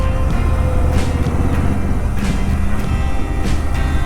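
Road traffic on a city street near the Jubilee check post signal in Hyderabad rolls past as a loud, steady rumble of engines and passing vehicles, a continuous close wash with no talk.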